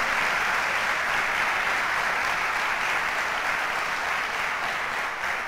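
Church congregation applauds in a dense, sustained wash of clapping that holds evenly for several seconds, with no voices standing out.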